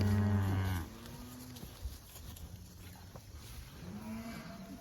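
Heifers in a pasture herd give a loud, deep moo right up close, followed by quieter shuffling and a second, softer lowing call near the end.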